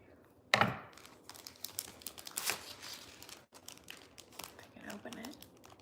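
Package for a foot peel being opened, with a sharp tear at the start followed by bursts of crinkling plastic and rustling, close and fairly loud, while a person talks throughout.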